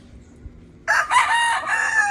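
A Gilmore sweater gamefowl rooster crows once, loud and close, a long harmonic call starting after a quiet moment and holding to the end.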